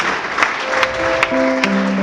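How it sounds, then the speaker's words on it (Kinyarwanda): Brief applause from a church congregation during a sermon, a soft patter of clapping with a few sharper claps and a sustained tone entering partway through. "tumukubire abantu mumfashe tumukomere amashyi"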